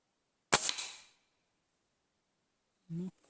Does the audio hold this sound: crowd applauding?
no